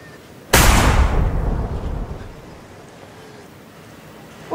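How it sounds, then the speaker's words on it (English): Several celebratory gunshots fired into the air at a wedding, a sudden loud blast that booms and rolls away over about two seconds before fading into quiet. "All of my Muslim friends shoot in the air when they're getting married."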